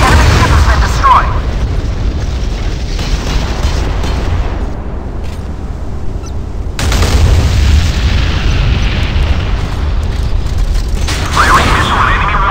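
A missile destroys an enemy warship in the naval video game Modern Warships. A loud, sustained explosion roar rumbles on with a dense low boom, and a second surge of blast noise follows midway through.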